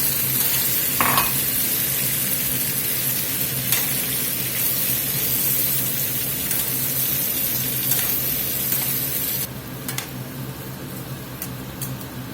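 Vegetables for steak fajitas sizzle steadily in a hot pan, a constant close frying hiss with occasional stirring scrapes and clicks, easing slightly near the end, with no talking.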